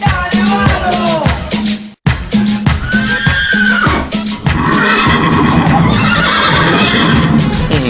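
Horse neighing loudly and close, a series of shrill whinnies with a brief cutoff, then a rougher mixed stretch of horse sounds toward the end.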